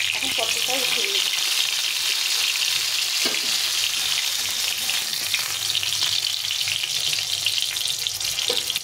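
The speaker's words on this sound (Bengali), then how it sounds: "আর এখানে পটলটা ভাজা হয়ে গেছে। পটলটা একদম লাল করে দিয়েছি।" Pointed gourd (potol) frying in hot oil gives a steady, dense sizzle that stays loud and even throughout, with a few brief clinks and no talking.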